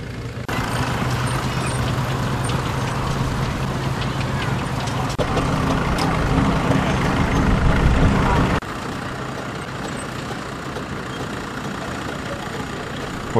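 A 1904 Wolseley vintage car's engine runs steadily at an outdoor vintage working event, a low continuous chug that grows slightly louder before dropping back, with a voice talking over it.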